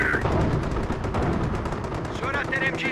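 Sustained machine-gun and rifle fire in the video game Company of Heroes during a Normandy battle at Montebourg, loud and continuous, with brief whistling tones and a shouted voice line over the shooting.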